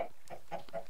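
Chickens in a Minecraft golden egg mod give several soft, short clucks in quick succession, faint and fairly close.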